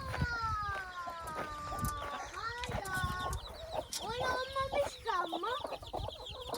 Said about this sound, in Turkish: Tavuklar gölge yerlerden çıkıyor.